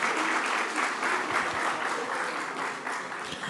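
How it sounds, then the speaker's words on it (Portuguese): Conference attendees in Coimbra applaud as the next panelists are called to the stage, a loud, dense and continuous clatter of many hands filling the room for several seconds, with no voices. "Uma salva de palmas para os nossos próximos painelistas."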